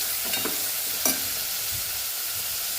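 Onion, garlic and green chili fry in a pan for a fenugreek-leaf palya, a soft steady sizzle and hiss throughout with a couple of sharp scraping stir clicks near the start, fairly quiet and without any voices.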